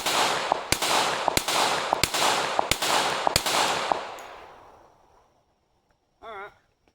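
Six sharp, evenly spaced single-handed shots from a Rock Island 1911 .45 ACP pistol at about five yards, each loud crack trailing into outdoor echo, then the ringing fades to quiet and a short tonal warble follows.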